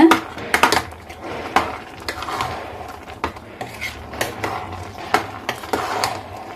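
Metal ladle clinks and scrapes against a pot in an irregular rhythm, close by, with soft mushy stirring between the knocks as pumpkin and beans for Kerala-style erissery are mashed and mixed.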